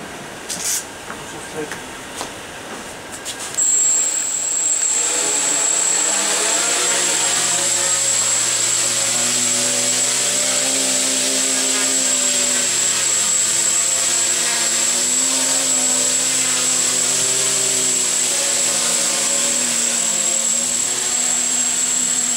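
A quadcopter's motors spin up after arming, following a few seconds of quiet handling clicks, then hold a loud, close, steady high whine and buzz with pitch that drifts up and down.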